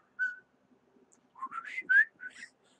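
A short whistled chirp of a YouTube comment notification, then a quick rising-and-falling whistled phrase a moment later, clear and close in an otherwise quiet room.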